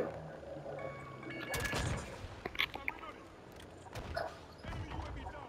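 Gunfire in Call of Duty, with a burst of sharp shots cutting through busy game noise and dog-like yaps, under ongoing player talk.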